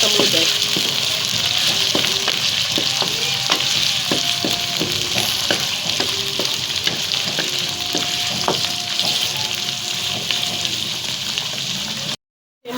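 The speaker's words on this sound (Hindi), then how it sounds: "इसको अच्छी तरह मिक्स कर लें और अच्छी तरह फ्राई करें" Chicken sizzles steadily in a hot pan while it is stirred and fried with onion, giving a constant loud crackle and hiss broken by occasional scrapes and clinks, and faint speech now and then.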